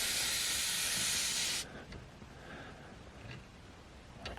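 Pressurised air blasts out of an opened Airlift air suspension valve as a loud, bright hiss that stops abruptly after about a second and a half, leaving quiet background noise.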